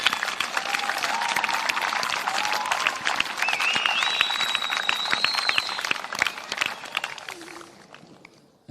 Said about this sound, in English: I think all of these guys should give a round of applause to all your supporters in the stand